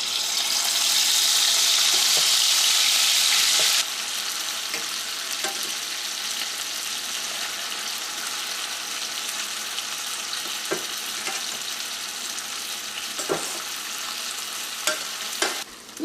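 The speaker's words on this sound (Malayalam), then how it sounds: "വെളിച്ചെണ്ണ നന്നായിട്ട് ചൂടായിട്ട് ഇനി നമുക്ക് ഇതിലേക്ക് ബീഫ് ചേർക്കാം." Large pieces of beef frying in hot coconut oil in a Kerala beef roast, a steady sizzle that follows an initial loud hiss, with occasional stirring clinks and no talking.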